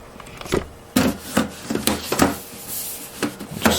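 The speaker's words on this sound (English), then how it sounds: "Now I'm gonna close the case. Close the side panel." The side panel of a Dell XPS 435 computer case sliding closed, heard as a series of close, sharp metallic clunks and scraping rubs in uneven rhythm, with no talking.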